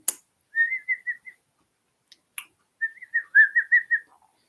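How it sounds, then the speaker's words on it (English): A person whistles two short warbling, bird-like phrases with a pause between, clear and close, with a couple of clicks. "You like me whistling? I can whistle for the birds"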